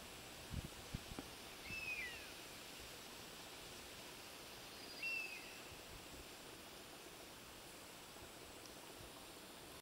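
A bird near the hot springs of Sibayak volcano gives two short, thin whistled calls a few seconds apart, faint above a steady background hiss.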